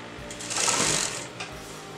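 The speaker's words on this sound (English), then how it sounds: "So this is going to be the first step of sewing the lining fabric." Sewing machine stitching kurta lining fabric at the armhole, a close, fast mechanical whirring run that swells in the middle and then slows, with no voices.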